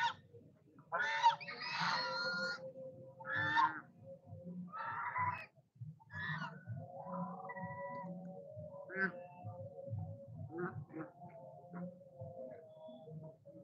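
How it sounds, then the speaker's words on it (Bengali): Domestic geese at a Lotus Temple-themed Durga Puja pandal, giving repeated honking calls in short bursts, fairly close and loud, with quieter voices and crowd murmur underneath. "রাজহাঁসের ডাক, প্রথমবার দেখো।"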